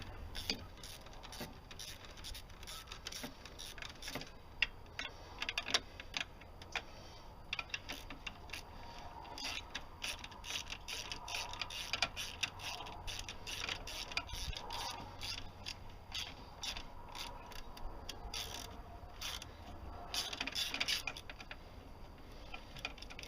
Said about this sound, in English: Let's just go ahead and loosen those bolts and remove the thermostat.